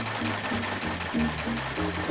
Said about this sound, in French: il faut maintenant coudre la semelle